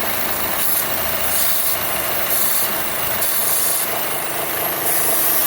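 A steady airy hiss with pulsing, rasping surges repeats roughly every second over an engine's continuous rumble, a faulty PCV valve sucking in air on a Chevy Cruze.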